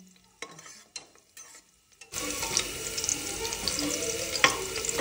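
Crushed garlic dropped into hot oil in a pressure cooker, with quiet clinks and handling at first, then a sudden loud, steady sizzle that continues to the end.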